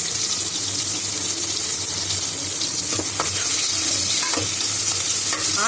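Onions sauté with cinnamon and bay leaf for a mushroom biryani, a steady sizzle with occasional stirring scrapes, loud and close, with no talk.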